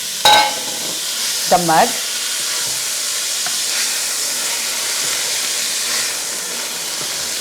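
Mung dal lentils hiss and sizzle steadily in a hot pan with onions while being stirred, a continuous frying wash with a couple of brief scraping stirs near the start and a few muttered words.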